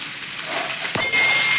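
Pieces of amla drop into a hot pan for Maharashtrian morawala murabba, setting off a steady, close hiss of steam and sizzling that swells suddenly louder near the end, with no talking.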